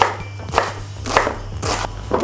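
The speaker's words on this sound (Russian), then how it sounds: "Лук режем кубиком мелким." Knife dicing an onion into small cubes on a cutting board while making buckwheat mushroom soup, four crisp chopping strokes at an even pace, close and clear.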